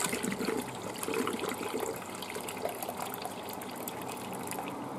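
Strawberry drink liquid trickles and splashes steadily through a small sieve, a light stream pouring close by with no voices.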